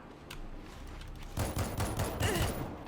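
Bursts of gunfire from World War Z, with quieter shots at first, then a dense run of rapid, loud automatic fire in the second half.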